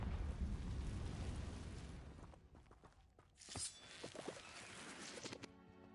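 Confringo explosion spell in Hogwarts Legacy: a fading rumble gives way to a sharp burst with crackling, shattering debris, then scattered smaller pops and thuds trailing off, moderately faint overall.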